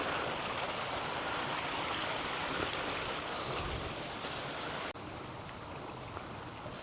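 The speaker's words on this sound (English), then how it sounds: "So that's where that tiny little waterfall's running down." A tiny waterfall runs down near the steaming hot springs of Beppu, Japan, giving a steady broadband rush of falling water that stays close and continuous throughout, dipping slightly in level partway through.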